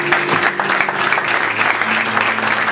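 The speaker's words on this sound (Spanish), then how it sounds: "Dale un aplauso fuerte a Jesús." A church congregation claps loudly together in dense, continuous applause that fills the room from start to finish, with a voice faintly under it.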